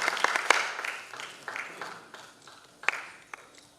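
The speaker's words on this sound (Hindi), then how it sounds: "आप सभी सम्मान तालियों के साथ दे सकते हैं" Sparse, uneven clapping from a small audience at an inaugural festival session in Bihar honoring a guest, scattered individual claps rising and fading rather than a full ovation.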